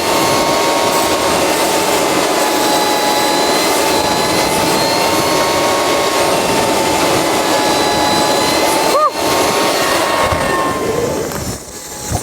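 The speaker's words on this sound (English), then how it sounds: "this is why we put a hose reel on here so we can blow out the lines if there's anything in it" Compressed air from a hose reel on a planter blasts out through the seed lines in a loud, continuous broadband hiss that holds steady for about eleven seconds before tapering off.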